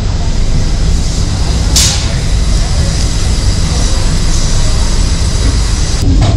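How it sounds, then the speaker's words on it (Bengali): The 13141 Teesta Torsa Express pulls out of Sealdah station, heard from on board as a loud continuous rumble of wheels and carriages with a couple of brief metallic squeals. "পুরো রাইট 3টের সময় ট্রেন ছাড়লো।"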